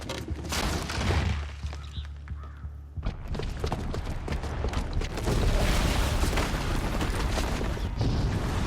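A booby-trapped bomb detonates in Horizon Zero Dawn, giving deep booming blasts and crashing debris. A low rumble rolls in early, sharp bursts follow, and dense loud crackling builds to a near, sustained roar.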